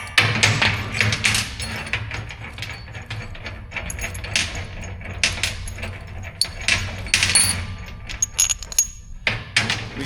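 Metal hardware clinks and jangles while tabs are bolted to heim joints on a mini rock crawler suspension build, a close series of irregular taps and rattles.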